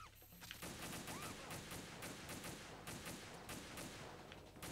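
Sustained gunfire rattles through a stretch of Metal Gear Solid 2 gameplay, dense rapid shots in an even burst pattern over a constant noisy game backdrop, fairly quiet overall.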